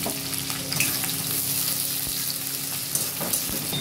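Chopped onions added with minced garlic to hot oil in a pan for chilli chicken, a loud, continuous close-up sizzle with bursts of crackling and occasional scraping as they are stirred.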